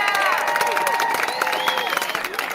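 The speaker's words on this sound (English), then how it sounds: "Too much clapping in the morning right away, huh?" A morning live-stream audience claps and cheers in a dense, continuous burst, with whistles and crowd noise mixed into the applause throughout.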